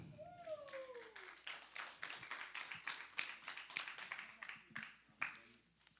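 A church congregation claps after a pastor's reflection; scattered, uneven handclaps build over several seconds, fairly faint and roomy, with a voice speaking briefly near the start.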